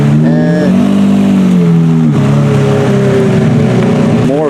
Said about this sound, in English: more cars coming in.